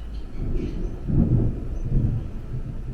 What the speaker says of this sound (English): looks like we've got a big storm on the horizon here